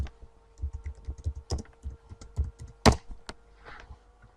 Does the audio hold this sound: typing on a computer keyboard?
yes